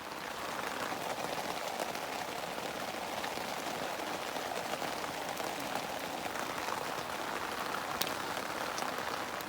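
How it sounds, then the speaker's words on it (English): Steady rain patters on surfaces all around, a dense, continuous hiss of drops with a few sharper ticks, no voices. "Still raining."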